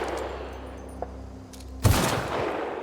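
A sniper rifle firing normal ammunition in the video game The Outer Worlds: one sharp, loud shot bursts in after a quiet low hum, followed by a lingering rumbling tail.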